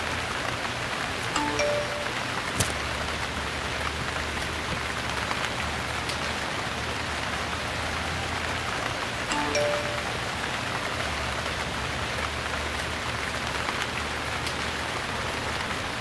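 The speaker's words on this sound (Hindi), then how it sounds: "I love the rain." Steady rain falls continuously, a dense hiss of drops on surfaces with an occasional faint tick or clink, no voices.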